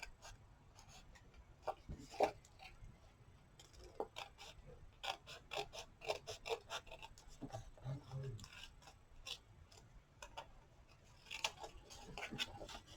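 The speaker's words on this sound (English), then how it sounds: "I'm just going to go ahead and I'm going to cut all the way around." Scissors snip around a paper piece for a Christmas card that holds a lip balm, giving a string of soft, close, irregular cuts and crinkles, faint overall, with quiet speech at times.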